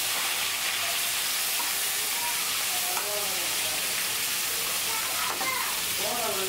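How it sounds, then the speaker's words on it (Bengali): Pointed gourd and eggplant fry in hot oil, giving a steady, loud sizzle and hiss throughout with faint clinks of stirring, and no speech over it. "পটল, বেগুন আমি এই তেলের মধ্যেই ভেজে নিব"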